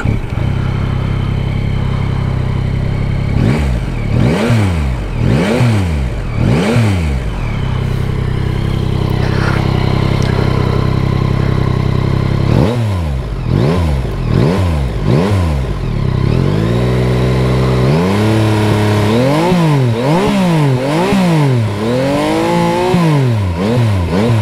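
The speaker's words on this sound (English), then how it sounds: "So let's fire this one up and we'll have a little listen to this." A Yamaha Tracer 900 GT motorcycle engine fires up and is blipped through a series of sharp revs, each rising and falling quickly, then settles into a steady idle before more rhythmic throttle bursts, loud and close with no talking.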